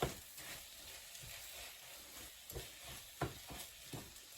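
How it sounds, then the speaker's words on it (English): Rice stirred around in a hot paella pan, grains scraping and hissing in a gentle sizzle with a few louder scrapes, close and quiet with no talk. "I'm going to add the rice, give that a stir around to coat all the grains"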